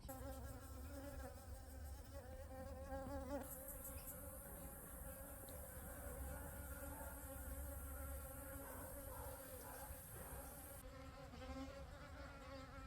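Blue-banded bees buzz around a bee hotel in a backyard garden, a continuous soft droning hum of insect wings close by, fairly quiet with no talking.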